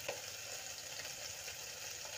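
Jackfruit seed masala stir-fried in oil with salt, turmeric and cumin powder, giving a steady close sizzle with faint scraping of stirring throughout, no voices.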